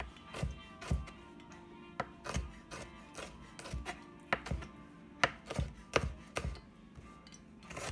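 A knife chops and dices food for homemade meatloaf on a cutting board, with irregular sharp taps, some in quick pairs, close and fairly quiet with no talking.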